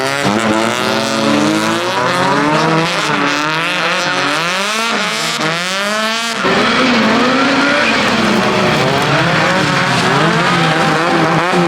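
A Nissan Silvia spins out at a Japanese car meet with loud, sustained tire squeal, its wavering screech rising and falling over a roaring engine, close and continuous with no talking.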